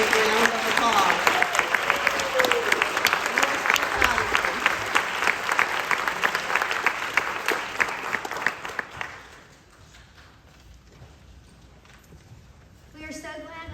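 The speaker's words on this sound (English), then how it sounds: "Can we please give our ambassadors a big round of applause?" Audience applause at a 2022 school ambassador pinning ceremony, a loud sustained burst of clapping for about nine seconds that then fades to scattered claps and quiet room noise.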